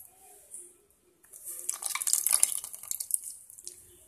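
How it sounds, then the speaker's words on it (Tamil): Water is poured into a cooking pot of Tamil marunthu kuzhambu with tamarind, making a faint splashing, trickling gush that swells in the middle, dripping lightly before and after, with no talking. "கூட நம்ம தேவைக்கேற்ப தண்ணி ஊற்ற போறோம்"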